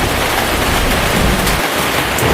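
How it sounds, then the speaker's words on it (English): Thunderstorm in the Toca Life World video game, with loud, steady heavy rain and rumbling thunder filling the scene without any talk. "There's a thunder."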